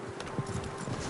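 Horse hooves clip-clop at a steady walking pace in the Red Dead Redemption 2 video game, faint and low in level over a continuous ambient background.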